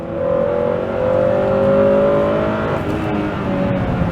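A Honda Prelude VTi-R's H22 engine revs hard toward its redline near 8,000 rpm, its pitch climbing steadily over several seconds, loud and close, before settling back; no talking.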